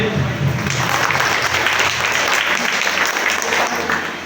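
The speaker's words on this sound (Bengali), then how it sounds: "জোরে তালি দেয়" An audience at a ceremony in Birganj, declaring a union free of child marriage and child labour, breaks into sustained, loud applause, an even wash of clapping that holds steady with a voice faintly mixed in.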